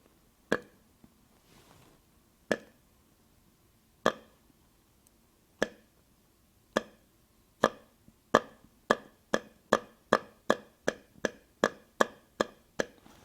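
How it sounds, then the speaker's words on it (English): Short tongue pops through a deer grunt call, spaced slowly at first, then quickening into a fast, even run of pops. "It's just the air being released by the tongue, and it makes a little pop sound"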